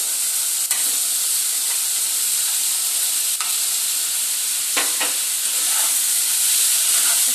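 Potatoes, carrots and vegetable stems fry with spices in a hot pan, a steady loud sizzle and hiss throughout, broken by a few sharp stirring scrapes.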